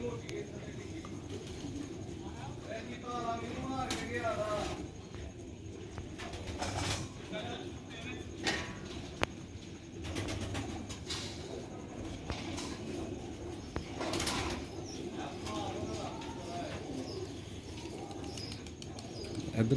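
Sialkoti pigeons cooing in repeated soft throaty phrases at close to moderate range, with occasional chirps and wing or cage rustles, while someone talks over much of the scene.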